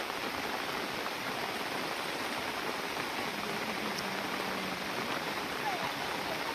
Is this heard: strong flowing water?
yes